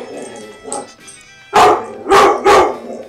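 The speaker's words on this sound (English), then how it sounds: "I think the dog is criticizing how you're playing the game." A dog barks in a game-playing room, three loud close barks following fainter whimpers and yips, with no talk over them.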